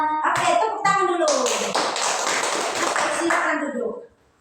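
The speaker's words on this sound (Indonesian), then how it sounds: "Oke, tepuk tangan dulu." A group of children clapping together in a classroom, a dense burst of claps lasting several seconds right after a short sung phrase, then stopping abruptly.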